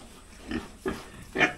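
Breeder sow grunting in three short separate bursts, each a low rough snort, close by with quiet pen noise between.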